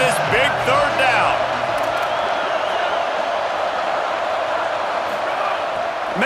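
Football video game stadium crowd making steady loud noise on a big third down, a dense roar with a few whoops near the start, under running commentary.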